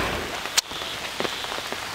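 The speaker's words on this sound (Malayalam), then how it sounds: "മഴ പെയ്യുന്നുണ്ടാണെന്ന് തോന്നുന്നു കേട്ടോ" Rain patters steadily onto a pond surface in Kerala during fishing, a dense close hiss of drops with a few sharper splashes and one brief bright crack, no voices.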